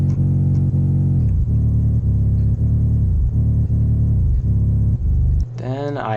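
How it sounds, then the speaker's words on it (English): An original 808 bass drum line rolls through a beat, with deep, booming sustained bass hits that glide down in pitch and repeat in a steady pattern, loud and up front, ending on a brief different tonal sound. "So originally the 808 sounded like this."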